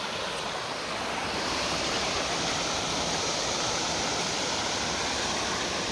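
Creek water cascades over placed rocks beneath a small bridge at an old mill, a steady, loud, continuous rushing roar with no voices.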